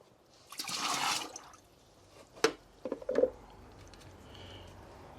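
Household tap water from a UK mains supply runs briefly in a short gush, then gives way to a few close drips and splashes over a quiet background.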